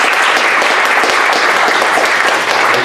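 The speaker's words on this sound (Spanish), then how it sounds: "Un aplauso bien fuerte por ella." Loud, dense applause from a high school graduation audience for a speaker, a steady unbroken wash of clapping that fills the whole stretch.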